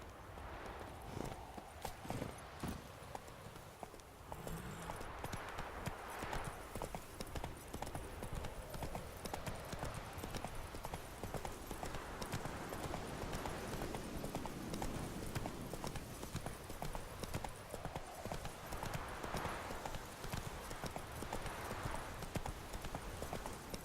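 Horse hooves clip-clop in a steady, fast rhythm during riding in the video game The Witcher 3, continuous and moderately close, mixed with faint in-game ambience.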